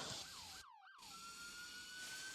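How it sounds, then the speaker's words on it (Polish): Police siren in the Roblox video game: a quick series of rising and falling wails, a brief cutout, then more swoops easing into a long steady high tone over constant background noise. "No dobra, chyba policja jedzie."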